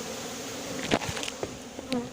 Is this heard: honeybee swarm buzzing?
yes